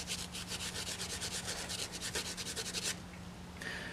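Sandpaper rubbed back and forth along a steel handsaw blade during restoration, a brisk rhythmic scratching of about a dozen strokes, close and steady, stopping near the end, no voices.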